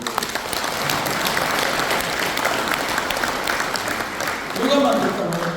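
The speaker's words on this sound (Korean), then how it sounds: "박수!" Audience applause during a lecture at a regional citizens' association event, a loud continuous crowd clapping that swells briefly near the end.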